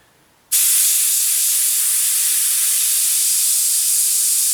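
An airbrush sprays paint through for a 1/32 scale Albatros D.V model aircraft build, starting abruptly after a short quiet moment and holding as a steady, close, loud hiss.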